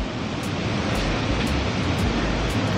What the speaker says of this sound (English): But do y'all hear the waterfalls?